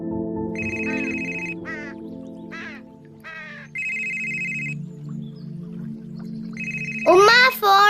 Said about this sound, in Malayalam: ഫോൺ അടിക്കണേ